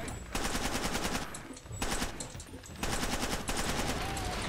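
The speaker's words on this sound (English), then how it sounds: "that was explosives" Far Cry 2 gameplay with rapid bursts of gunfire and blasts, loud and dense in three sustained volleys separated by brief lulls, no talk over it.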